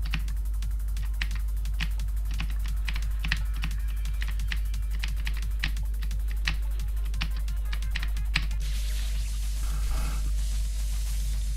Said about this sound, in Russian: Клавиатуру, да, купил. Razer Black Widow Ultimate 2014. Механика.